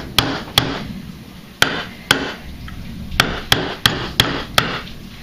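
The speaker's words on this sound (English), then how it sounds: "Let's hammer it in." Sharp metal hammer blows drive an Ozark Trail pocket knife blade into wood, with about ten loud, distinct strikes at uneven intervals and no talking.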